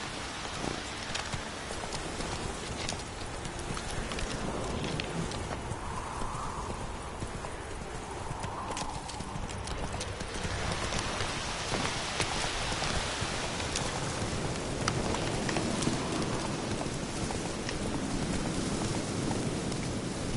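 Horse hooves clip-clopping at a steady trot in The Witcher 3 video game, a continuous rhythmic beat over rain and ambient outdoor sound, with a brief whinny.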